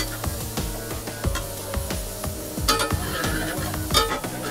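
Onions sautéing in a pan, stirred with a utensil in a rapid scraping rhythm over a constant sizzle, close and fairly loud throughout.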